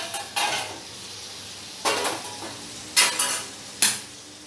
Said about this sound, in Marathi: जोपर्यंत हे तेलावर तरंगत नाही तोपर्यंत आपण तळणार